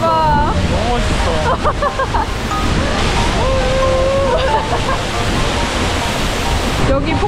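Loud, steady roar of an Icelandic waterfall close by, its water spraying onto moss-covered rock walls and grass, with excited voices talking over the rushing noise.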